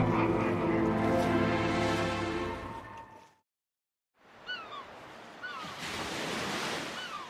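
Ocean waves crash and surge against a rugged Atlantic coastline of towering cliffs, a loud broad roar that breaks off briefly, then returns with seabird calls faintly over the surf.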